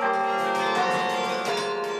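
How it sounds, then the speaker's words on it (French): A carillon plays in the tower of a church in Saint-Amand-les-Eaux, its bells ringing loud and continuous in overlapping, sustained metallic tones with no voices. "ce qui me plaît dans le fait de jouer du carillon"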